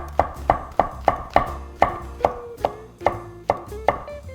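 A knife slicing fresh shiitake mushrooms on a cutting board for a mushroom and perilla seed soup, about ten crisp, evenly spaced cuts close up, with no talking.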